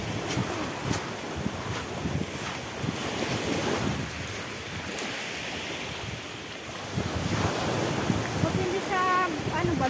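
Rough sea waves breaking on a beach, a continuous rushing surf mixed with heavy wind buffeting the microphone, moderately loud throughout.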